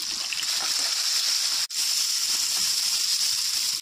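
Curry leaves, bay leaves and dried chillies sizzle in hot oil, a loud steady hiss close up that cuts out briefly partway through and then resumes.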